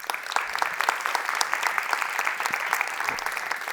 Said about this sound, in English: Yes, clap.